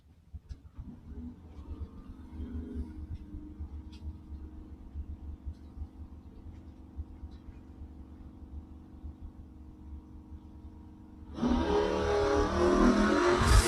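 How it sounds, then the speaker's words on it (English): A 1968 Camaro and a 1990 Mustang launch side by side at a drag strip, engines droning steadily at a distance before a sudden loud roar surges in near the end. "Mustang trying to catch the Camaro."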